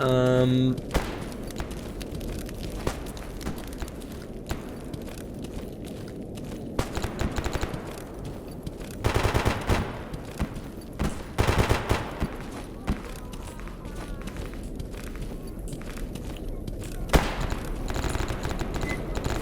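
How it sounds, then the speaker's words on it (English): Bursts of automatic gunfire and scattered single shots from a firefight in the video game Escape From Pripyat, coming in clusters at mid distance, with a voice talking at times. "See, there's some shooting over here."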